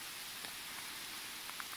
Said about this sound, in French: cette pluie là c'est magnifique